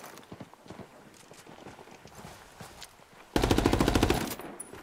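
A sudden loud burst of rapid automatic gunfire in the Ghost War tactical shooter game erupts after quieter footsteps and movement, the shots repeating quickly and close by.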